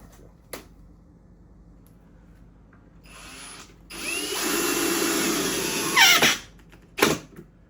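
A power drill cuts a small dimple for a screw head while building an RC airplane canopy, running in a steady whine for a few seconds and ending in short sharp bursts, close and moderately loud.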